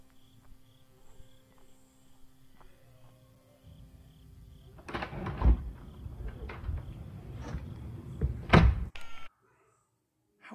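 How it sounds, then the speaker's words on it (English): A door in a horror film takes a long time to close, building from faint room tone into a cluster of creaks, knocks and thuds before a final louder thunk and sudden silence. "Long time to close that door."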